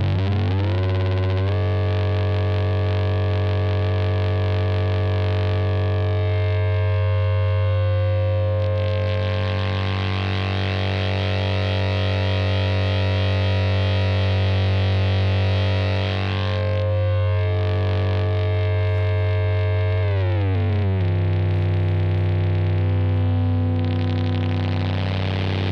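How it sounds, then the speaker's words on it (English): Serge NTO analog oscillator modulated at audio rate gives a dense, buzzing, distorted drone over a strong low fundamental, with its timbre shifting and sweeping through metallic, chorus-like textures across about twenty-five seconds, loud and continuous. "we could bring that into the audio range if we liked for some interesting"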